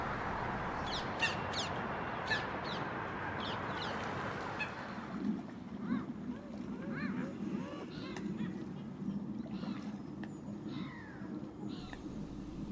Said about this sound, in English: The sounds of ring-necked parakeet are ever present here these days.